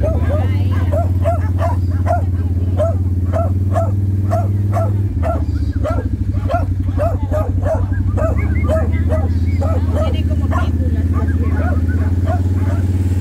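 Several dogs bark in repeated, evenly spaced yaps over a steady low engine hum from passing motorbikes or cars, with a louder rumble midway; people talk nearby.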